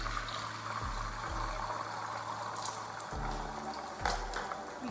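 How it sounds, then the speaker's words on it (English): Beaten eggs for simple egg fried rice are poured into a hot pan, giving a steady soft liquid hiss and sizzle over a low hum, with no talking. "now we're cooking the eggs, so pour them carefully"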